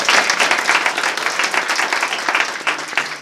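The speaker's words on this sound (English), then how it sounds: "Let's give ourselves a round of applause." An awards banquet audience applauds steadily, a dense wash of many hands clapping loudly and evenly throughout.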